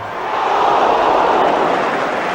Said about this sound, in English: Well might the crowd ooh